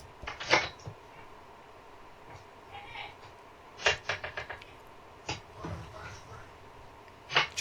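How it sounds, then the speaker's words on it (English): A door closes, heard as several sharp knocks and clunks scattered across the clip over a quiet room background. "And then he closed the door."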